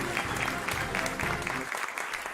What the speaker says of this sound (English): And of course, the applause is for my guest, Sheriff Joe Arpaio.